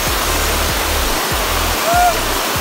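Steady broadband roar of the 7th falls of Alibeng in Sison, Pangasinan, a loud, continuous rush of water filling the scene with no clear breaks.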